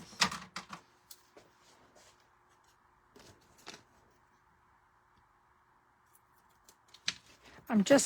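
Scissors snip through a small paper stamp at a crafting desk: a few quick, crisp cuts near the start and a louder cluster at the end, with a quiet stretch between.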